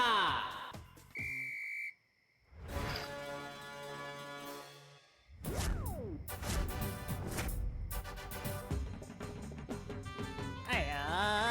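A shrill whistle is blown briefly near the start to open the first round of a dandiya dance competition, followed by loud music and festive noise, with some talk.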